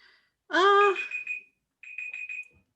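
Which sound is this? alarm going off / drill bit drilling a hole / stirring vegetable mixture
alarm going off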